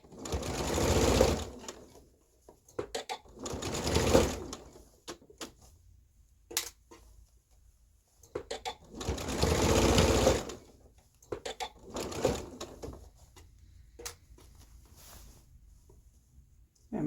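A sewing machine stitches a seam on a New Look 6876 dress, loud close whirring runs of stitching in several bursts of about one to two seconds, separated by quiet pauses with small clicks.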